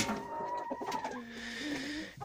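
Young roosters in a chicken coop, close and fairly quiet, giving a short run of clucks and throaty calls over about two seconds.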